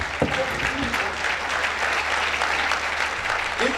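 Audience at a business success summit clapping steadily throughout, a moderately loud, even patter of many hands that stays continuous.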